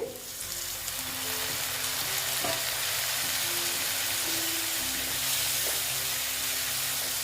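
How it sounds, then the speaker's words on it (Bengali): Spices with Kashmiri chili powder and a splash of water fry in a pan for ghugni, giving a steady, hissing sizzle with soft stirring, close and continuous. "জল দিয়ে মশলাটাকে ভেজে নিচ্ছি"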